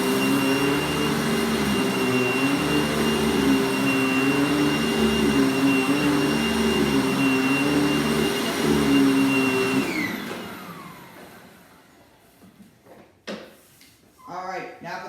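A Hoover Wind Tunnel upright vacuum cleaner runs with a loud, steady whine and motor drone for about ten seconds, then shuts off and winds down, followed by quieter handling noises.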